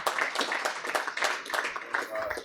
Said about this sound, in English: give a big round of applause for the clubs and for the recipients of Club Grants 2019